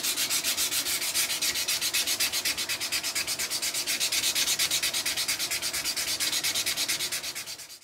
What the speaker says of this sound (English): you start sanding out the previous grit sanding lines